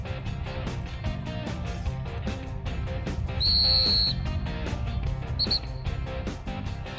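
Dog training whistle used in bird dog retrieving practice with bumpers: a loud, sharp, sustained shrill blast followed by two short quick pips and another brief toot, over a steady outdoor background rumble.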